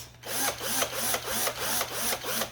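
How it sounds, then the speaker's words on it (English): A power drill bores slowly in and out of hardened resin, its motor whine rising and falling in about seven even pulses, close and fairly loud with no one speaking. "so I'm just gonna drill slowly in and out"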